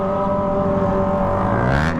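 A Kawasaki ZX25R fitted with a Toce exhaust revs hard close by, a dense high-pitched roar that holds steady and swells briefly near the end.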